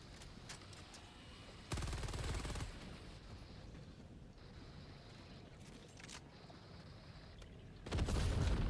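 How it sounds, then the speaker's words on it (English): Stalwart machine gun from the Helldivers video game fires in two loud sustained bursts, one about a second long near the start and another at the very end, with quieter game ambience between. "that Pyramid Head dude takes like a whole freaking stalwart mag"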